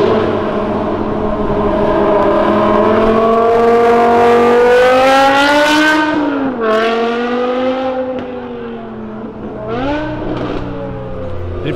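A Ford GT revs hard while drifting, its engine note climbing and falling in loud sweeping pitch, then easing off and surging again briefly, with voices present.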